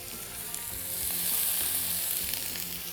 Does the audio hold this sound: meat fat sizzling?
yes